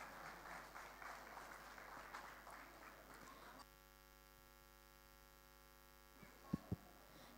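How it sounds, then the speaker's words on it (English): Audience applause at an international conference and golden jubilee celebration in Bhubaneswar, a moderate clatter of clapping for about three and a half seconds that stops abruptly, leaving a steady electrical hum and a couple of brief knocks. "Can we have a big round of applause?"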